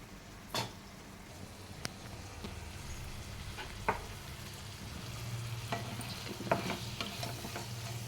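Chicken semi-fry cooking in a pan for a home-style chicken curry gives a steady low sizzle, broken by a few sharp scrapes and clinks of stirring scattered throughout, with no voices.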